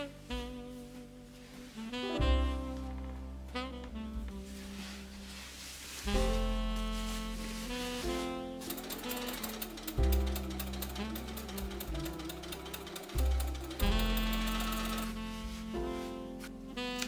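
A sewing machine stitches a dress lining to the outer fabric around the neckline, in bursts of rapid mechanical chattering and whirring separated by short pauses, close and fairly quiet.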